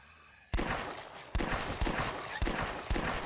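Gunshots from a .357 revolver in the zombie flash game The Last Stand: five sharp, loud single reports spaced about half a second to a second apart, with no talk between them.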